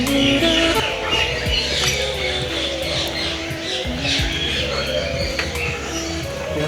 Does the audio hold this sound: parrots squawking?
yes